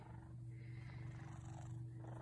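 A three-legged cat purrs steadily while having its chin rubbed, a low, continuous rumble heard close up and quiet with no talking.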